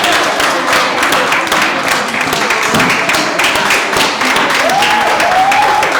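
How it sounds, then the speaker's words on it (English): Audience applause at a team-building leadership session: dense, steady clapping from a group that fills the room throughout, with a brief cheer or voice rising near the end. "Give yourself a round of applause"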